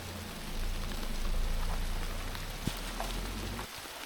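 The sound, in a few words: heavy rain with large droplets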